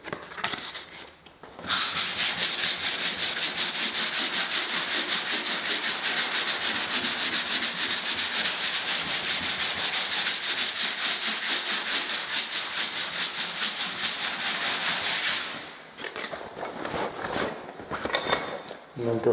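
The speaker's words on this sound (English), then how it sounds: "Once it's dried off, you want to give it a sand down." Abrasive rasping of P80 sandpaper worked over a dried plaster wall after wallpaper stripping, a steady close scrubbing with fast repeated strokes lasting most of the time, quieter handling before and after.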